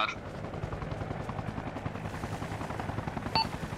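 Rapid gunfire crackles continuously in the Arma Reforger video game during a coastguard versus cartel firefight, dense bursts layered over one another, with a brief sharper shot near the end.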